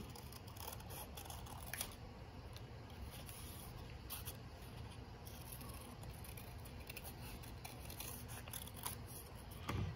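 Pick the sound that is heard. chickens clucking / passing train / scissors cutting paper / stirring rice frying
scissors cutting paper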